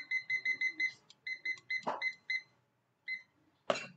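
A digital timer in an English classroom beeps in a quick run of bright electronic pulses, pauses, then sounds a few more, with a couple of short louder noises between them.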